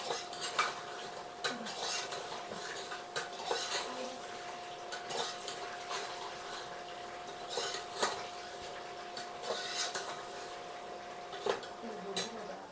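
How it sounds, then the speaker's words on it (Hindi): Green chillies frying with meat in a pot for Kashmiri maaz te thul monje, heard mostly as repeated metal clinks and scrapes of a spoon against the pot over a faint hiss, close up, with no talk. "ग्रीन चिलीज को भी हम अच्छे से फ्राई कर लेंगे सारी चीज़ों के साथ"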